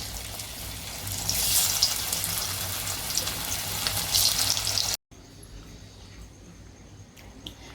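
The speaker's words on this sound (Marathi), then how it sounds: "आता आपण अशाच पद्धतीनं दुसऱ्याही मी आळूवड्या तळून घेते" Rolled taro leaf slices (alu vadi) deep-frying in hot oil, with a dense, steady, close sizzle and crackle that drops to a quieter bubbling after a brief cut.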